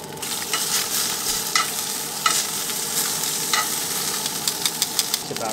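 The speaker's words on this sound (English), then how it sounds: "This is my first time ever cooking salmon while camping" Salmon frying in a pan at a winter mountain campsite, a steady close crackling sizzle with scattered pops and a few sharp clicks near the end, heard alone without talk.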